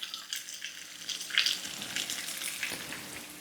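Onions frying in a pan sizzle continuously at moderate volume, with crackling bursts and the occasional stir or spatter spike. No one speaks.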